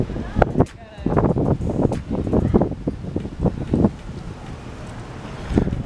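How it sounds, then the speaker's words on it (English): Gusty wind buffeting a microphone outdoors at a quarry, low rumbling bursts and rustle rising and falling throughout, close and fairly loud, with someone talking intermittently over it. "And it's windy right now."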